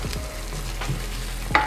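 Shakshuka with sausages is stirred in a sizzling pan. A spoon scrapes and knocks against the metal a few times, the clearest knock coming near the end, over a low continuous fry with no talking.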